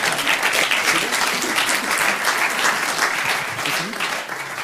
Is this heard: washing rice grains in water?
no